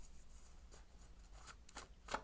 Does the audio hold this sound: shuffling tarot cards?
yes